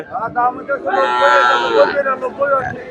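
Cattle moo loudly and close at a large cow market in Sirajganj, a long drawn-out bellow rising over distant voices and market babble.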